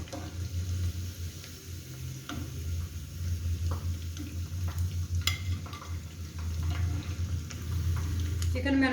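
Chicken pieces fry in a pan over a low flame for chilli chicken, giving a steady soft sizzle with faint stirring and scraping ticks, and a low hum sits underneath throughout.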